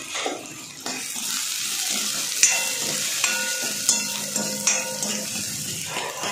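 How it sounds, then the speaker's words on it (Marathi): Chopped onion sizzles steadily in a hot pan, close by, while a spatula stirs and scrapes it in a series of knocks and clinks, with no one talking. "आता चांगलं असं परतवून घ्यायचं, कांदा लालसर होतोय।"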